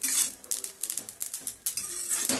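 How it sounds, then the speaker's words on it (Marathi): Sesame seeds dry-roasting in a pan for Sankranti til laddu give off a steady run of sharp, close crackles and pops, dense and uneven, with no one speaking. "चांगली तडतड उडायला लागली"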